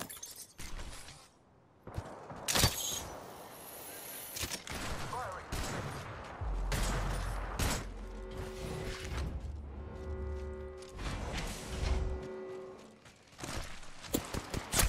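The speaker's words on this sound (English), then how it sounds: "I am taking fire. More guns are coming to kill us." Bursts of video game gunfire from Apex Legends, several sharp rapid volleys and impacts scattered across the clip, with mechanical clicks and a low hum between them and no voices.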